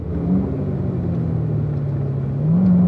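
A Corvette's engine on a track at driving school, a loud, close, continuous drone that dips and climbs with a brief blip as the driver brakes and drops a gear, then rises again toward the end.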